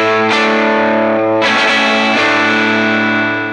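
Electric guitar played through a tube amp pushed into heavy distortion, two hard-struck sustained chords ringing thick and saturated, loud and close with no talk.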